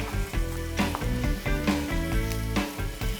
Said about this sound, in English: I'm gonna let my onions just start sauteing a little bit